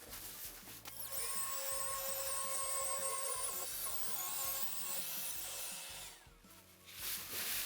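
Sanding a cracked kitchen countertop with 400-grit sandpaper on a power sander, a steady loud whirring grind that runs continuously for most of the stretch, then briefly dips and returns at the end.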